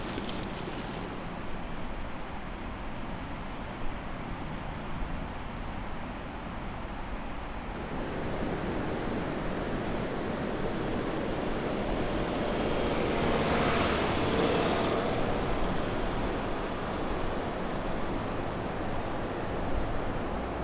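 Steady roar of waves and surf on a foggy beach, a continuous broad wash of noise that swells slightly midway, with possible wind over the microphone.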